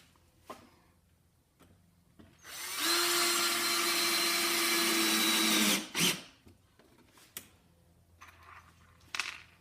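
Drill driving a screw into 7/8-inch-thick Honduras mahogany, a steady whining buzz lasting about three seconds, bracketed by clicks and handling knocks.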